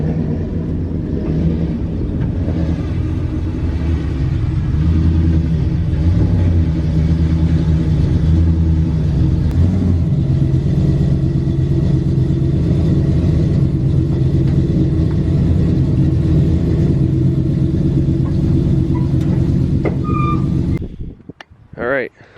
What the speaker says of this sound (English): I'm not sure if you guys can hear the whining when I pull up